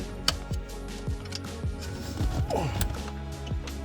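A screwdriver drives screws back into interior plastic trim of a Mercedes C200, with repeated ratcheting clicks and creaks in short bursts, close by and without talk.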